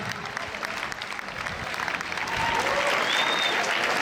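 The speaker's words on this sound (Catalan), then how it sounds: "fort aplaudiment pels de quart de Torres de Mar" Applause for the quart de Torres de Mar dancers at the Festa de les Enramades in Sallent, a steady outdoor clapping from a crowd that swells a little louder toward the end.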